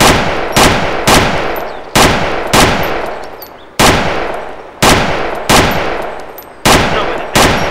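Gunfire in DayZ on the Chernarus map: sharp, loud single shots fired at an uneven pace, about a dozen reports with short echoing decay between them, no voices.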